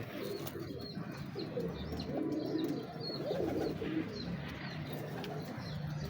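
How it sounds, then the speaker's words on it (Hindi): Old-breed Teddy pigeons coo steadily in soft, throaty rolls, several birds together, with light chirps and occasional wing flutters in the background. "ये पुरानी नस्लों के कबूतर हैं"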